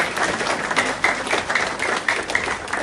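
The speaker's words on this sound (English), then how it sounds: "So kids, can we give a big clap for Gareth?" Kids and parents at a junior cricket club presentation break into steady, lively applause, a dense patter of clapping from a small indoor crowd with a few sharper claps standing out.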